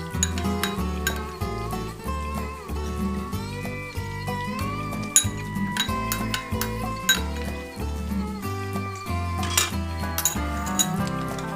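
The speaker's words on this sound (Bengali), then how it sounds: "এবার আদা রসুন বাটাটা দিয়ে ভালো করে একটু নাড়তে হবে।" Ginger garlic paste being stirred into softened onions in a cooking pot for Anglo-Indian chicken pishpash, heard as repeated close clinks and scrapes of a utensil against the pot over a faint sizzle, with background music.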